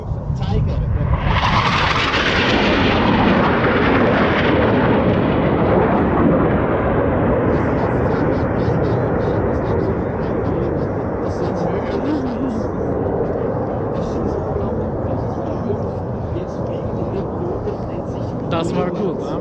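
Four F-5 Tiger military jets roar past during a live-fire air show at Axalp near Brienz, Switzerland, a loud sustained rush of jet noise that swells early and trails off over twenty seconds, with a commentator speaking over it.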